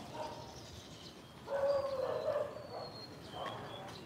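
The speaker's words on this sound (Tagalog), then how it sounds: "May aso doon." A dog barks and yelps in a few short bursts at a moderate distance, with quiet background noise between them.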